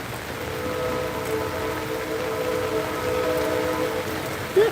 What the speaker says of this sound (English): We got rain, we got a train,